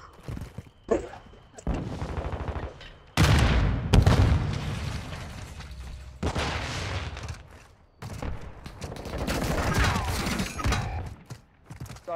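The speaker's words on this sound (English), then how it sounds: "That's that stupid pistol, bro." Pistol fire in the video game Hyper V, repeated sharp bursts and booms arriving in loud clusters separated by quieter gaps, with mechanical clatter between shots.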